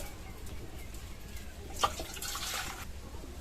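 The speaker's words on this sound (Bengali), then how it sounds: "জলটা খুব ভালো মতো গরম হয়ে গেছে, দেখুন এই যে বুড়বুড় উঠছে। এবার জলটা ঢেলে নেব।" Hot water being poured from a pot in a rural Bengali kitchen while making traditional kul (jujube) pickle, a brief splashing pour in the second half over steady background noise.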